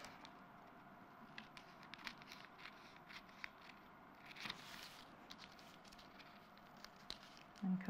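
Scissors cutting fabric for a duffle bag, faint and close, with soft repeated snips and rustling of material in a quiet room and no talk.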